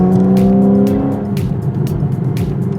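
Porsche 911 engine pulling hard under acceleration, a loud rising rasp that drops away at a gear change, then a rougher, gritty roar continuing with bursts of road and wind noise.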